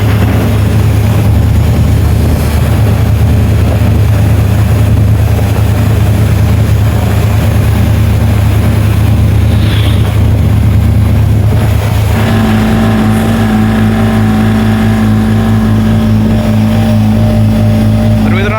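A heavily laden goods vehicle carrying a load of blocks drones loudly and steadily, labouring under strain with a deep, constant engine roar; partway through, the engine note shifts to a higher, steady whine.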